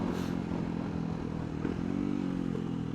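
CCM Street Moto R motorcycle engine running steadily while riding, a continuous close, loud droning hum with a faint clattering edge and no speech.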